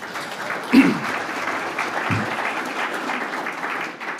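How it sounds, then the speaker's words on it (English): A crowd at a red meat industry forum claps steadily for a few seconds, a broad wash of applause at moderate level with a couple of louder thumps near the start. "So round of applause to the producers."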